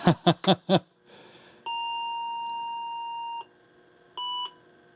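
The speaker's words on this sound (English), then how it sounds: "One long beep, one short beep." Four quick clicks, then a long electronic beep followed by a short beep from an IBM 5170 computer's motherboard error code, clear and steady in a quiet room.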